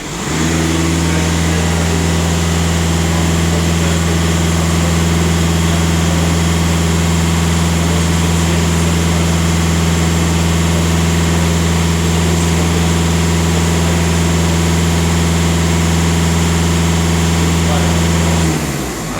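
A VW Passat or Skoda car engine idles with a faulty thermostat and a failed crankcase ventilation system, giving a steady, loud, low drone that holds without a break before cutting off at the end.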